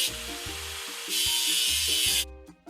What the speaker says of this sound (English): Let's get rid of the machine's rust. Move the tool to clean the stain.